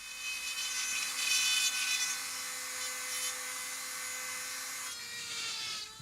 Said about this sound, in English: His tool has long been the electric milling machine